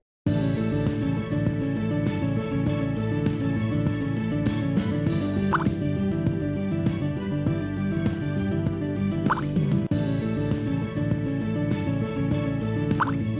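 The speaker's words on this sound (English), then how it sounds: "play sound water drop until done" A few water drops plop at irregular moments over a dense, steady musical bed, the drips short and distinct; a water drop sound effect played in a Scratch game.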